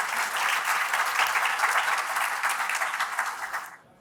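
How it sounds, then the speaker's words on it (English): An audience at a London Tech Week startup pitch event applauds the judges, a dense, loud burst of clapping that holds steady for about three and a half seconds before cutting off abruptly. "applause for the judges."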